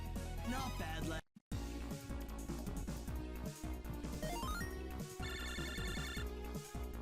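A phone ringtone plays in the video game Mega Man Battle Network 5, a repeating electronic ring over the game's background music, cut by a short gap of silence near the start.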